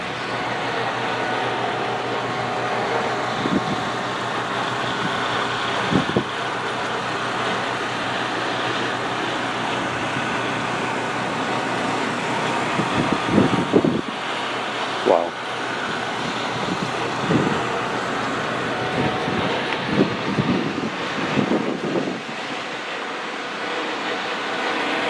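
Blizzard wind roars outdoors in late December, a steady, dense rush of snowstorm air that continues unbroken, with a few brief knocks and gusty bursts toward the end.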